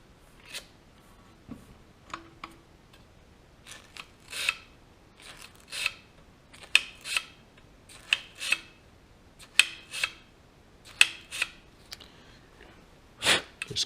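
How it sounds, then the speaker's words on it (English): Fine 320-grit sandpaper rasps in short, sharp strokes against engine ignition points, a dozen or so quiet scrubbing bursts spaced irregularly with hush between them and no voice. "Just cleaning with some fine sandpaper. This is 320 grit."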